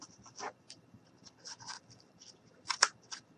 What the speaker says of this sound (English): take your scissors and you're going to cut a little slit in it